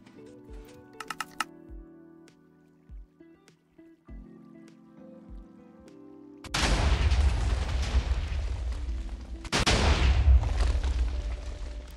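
A Minecraft TNT cannon built around a single water bucket fires. Light clicking and short thuds come first, then two loud, broad explosion bursts, each lasting a few seconds.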